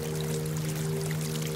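A forest river flows in a constant, even rush of water under a steady low hum, unbroken and fairly loud throughout.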